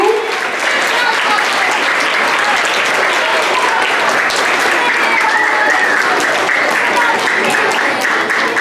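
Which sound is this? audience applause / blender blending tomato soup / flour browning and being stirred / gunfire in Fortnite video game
audience applause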